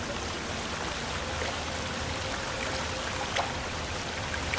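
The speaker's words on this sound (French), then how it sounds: "Une cascade." Steady broadband rush of a waterfall in the survival game Sons Of The Forest, a continuous dense wash of falling water heard alone at moderate level, with no talking.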